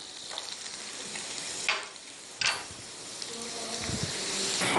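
Drumstick leaves and jaggery sizzling softly in a pan, with a few scraping stir strokes and a rising crackle toward the end.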